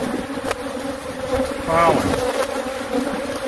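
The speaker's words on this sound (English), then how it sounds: "Everybody has these bees, and they are full of bees." Dense, steady buzzing of many honeybees swarming around an opened hive full of pollen and honey, close and loud, with someone speaking briefly over the drone.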